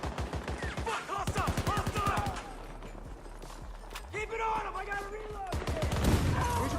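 Rapid bursts of automatic gunfire in a Battlefield game, loud sharp shots in quick strings with pauses between volleys, while someone shouts excitedly over the shooting.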